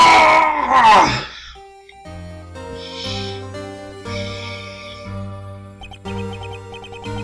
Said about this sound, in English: It's that scream I heard in the elevator!